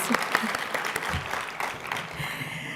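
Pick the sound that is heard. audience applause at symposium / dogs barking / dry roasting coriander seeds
audience applause at symposium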